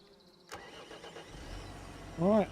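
Lamborghini tractor engine in the Farming Simulator 25 game starting up after a sharp click, then settling into a low, quiet idle, with a short tonal chime near the end.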